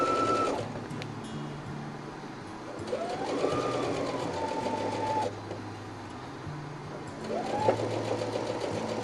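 A sewing machine stitches fabric for a shark pin cushion in short bursts of fast, even whirring, with pauses between runs, close and fairly quiet.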